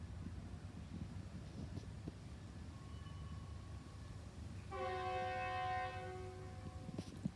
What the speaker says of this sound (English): The train horn is my enemy.